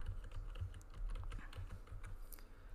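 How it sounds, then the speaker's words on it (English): Fingers type steadily on a computer keyboard, a close, quiet patter of rapid key clicks with no voices. "We want to go ahead and type in V-Stancer."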